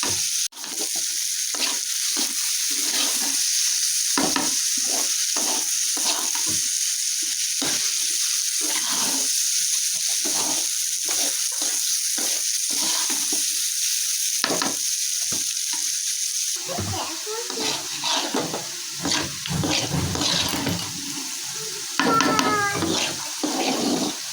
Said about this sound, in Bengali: এখানে আলু ভাজা করে নিচ্ছি ছেলেদের জন্য।